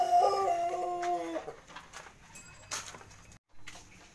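A Pelung chicken lets out a short, tonal call close by, about a second long, followed by faint rustling and quiet background noise.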